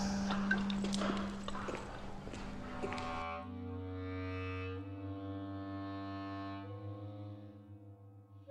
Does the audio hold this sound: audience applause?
no